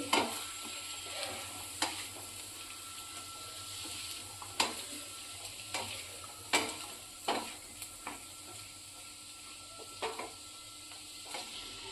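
Green turmeric curry being stirred in a pan after salt goes in, a soft steady sizzle with scattered scraping spoon clicks and taps, quiet and close, no voices.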